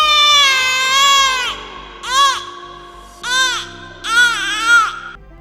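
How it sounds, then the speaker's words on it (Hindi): A baby's wailing cry as a spooky sound effect in a haunted-forest ghost story, one long sob followed by three shorter rising cries, loud and close over a low drone. "किसी बच्चे की रोने की आवाज़ें सुनाई देने लगी"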